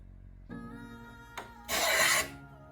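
A cheap block plane drags across camphor laurel wood in two rasping strokes, a brief scrape and then a louder, longer rough shave, close and alone after a faint knock.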